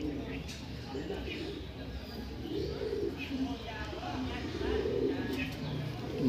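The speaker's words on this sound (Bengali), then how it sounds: "এটা কালদমা ঘরের একটা মেল পায়রা।" A male Kaldama pigeon in a loft coos, with low rolling throaty phrases that rise and fall several times over a faint background.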